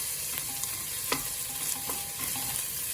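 Hing, masala and turmeric are stirred into hot oil for wudham dhal, a soft steady sizzle with a few light spoon scrapes and taps against the pot.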